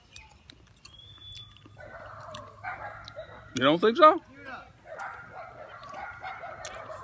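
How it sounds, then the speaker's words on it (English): Dogs bark and yip in a short burst, a little distant, while people talk quietly around them. "You hear the dogs barking in the background?"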